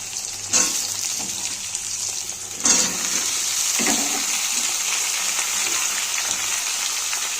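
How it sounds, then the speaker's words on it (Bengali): Potatoes and onions fry together in a pan for a pomfret fish curry, giving a steady, moderately close sizzle with a few brief louder spits and disturbances; no one speaks. "আলু আর পেঁয়াজ একসাথে কিন্তু ভেজে নেব"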